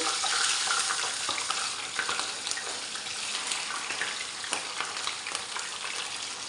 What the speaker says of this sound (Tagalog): Iprito na po natin tong isda.